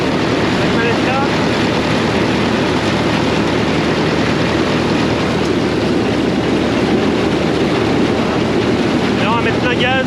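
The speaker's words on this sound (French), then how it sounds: "Et on va mettre en route la barre de coupe" A 1964 Claas combine harvester running with its cutter bar starting up, a loud steady mechanical roar and rattle filling the whole stretch, with a voice speaking over it at moments.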